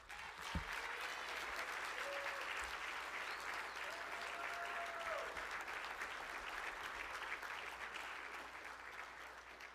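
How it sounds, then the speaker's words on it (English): Sustained applause fills the room at an awards ceremony, a dense, even roar of clapping that holds steady for about ten seconds, with faint whoops mixed in. "please help me give a huge round of applause for KP, Kelsey Pasalia."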